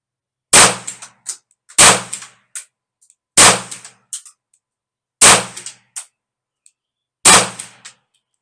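Browning Buckmark .22 pistol fired at targets, five sharp loud shots about two seconds apart, each followed by a quick metallic ring and echo, close with silence between.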